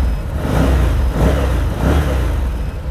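ODES 850cc EFI 4WD ATV engine running up close, a loud deep throbbing rumble that swells in a few rev-like pulses, with no talk over it.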